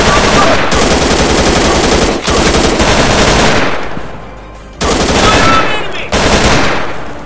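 Rapid machine-gun fire in a commando shooting video game, long loud automatic bursts close up, broken by brief pauses between strings of shots, with a voice talking faintly underneath.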